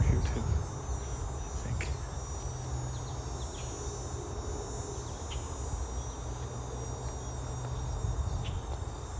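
Insects buzz and drone around flowers in a Toronto park on a summer day, a constant busy hum with faint chirping in the background, and a brief spoken remark near the start.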